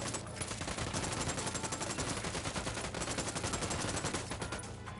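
Automatic gunfire from the video game Ghost Recon Wildlands, a dense, sustained barrage of rapid shots that carries through the whole stretch at a steady loudness with no voices.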